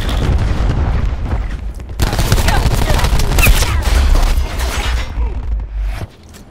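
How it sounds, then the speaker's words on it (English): A grenade explodes in a video game: a loud, close blast with a heavy rumbling boom and crackling, gunfire-like bursts. It rolls on for several seconds, then cuts off abruptly near the end. "Grenade."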